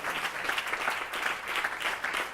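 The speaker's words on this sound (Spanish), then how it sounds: "Denle un aplauso al Señor por eso." Congregation clapping in a church service, a steady wash of applause from many hands at moderate volume, continuous throughout with no talk.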